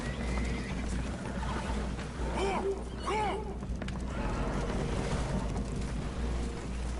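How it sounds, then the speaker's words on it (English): Spooked horses whinny aboard a damaged boat taking on water in Red Dead Redemption 2, two or three shrill neighs rising over a steady rumbling background of water and engine noise, heard at mid distance. "Horses are spooked, and we're taking on water."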